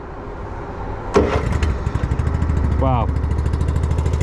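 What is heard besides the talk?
VSI Legacy Series 750 liquid deicing sprayer engine starting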